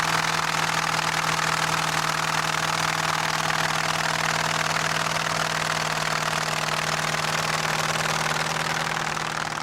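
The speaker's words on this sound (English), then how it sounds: "driving my 1923 Buick powered roadster with a 23 body on it, and we're running great." A 1923 Buick-powered roadster with a 1923 body runs steadily at a car show, a continuous close engine drone with a constant low hum and no talking.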